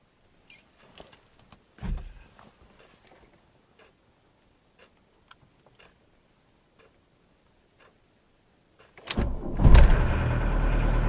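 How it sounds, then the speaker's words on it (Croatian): Volkswagen Golf Mk1 engine on a cold start: after several seconds of quiet scattered clicks and ticks, the engine cranks and catches with a loud burst, then settles into a steady, close idle. "To se zove upalit auto."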